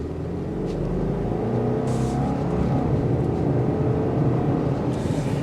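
The turbocharged engine of a 2023 Subaru Outback Wilderness revs and accelerates with a steady, loud rumbling drone that holds for several seconds, heard from inside the car with no talking.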